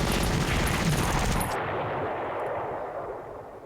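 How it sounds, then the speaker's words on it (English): Artillery fire in the World War II strategy game Panzer Corps. A loud, dense burst of explosive rumble and crackle cuts off abruptly at about 1.5 seconds, and a fading low roar trails after it. "Man, this artillery is doing a lot of damage."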